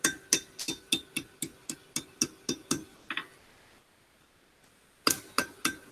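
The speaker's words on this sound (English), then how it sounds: "I'm going to bend it in between my hammer and the anvil." Steel hammer striking a metal ring against an anvil while bending it into a circle, a steady run of sharp, bright ringing taps, pausing briefly, then resuming with several more close, loud strikes.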